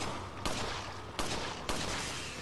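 Three loud, evenly spaced gunshots from the Resident Evil 4 video game, each a sharp blast followed by a short decaying echo.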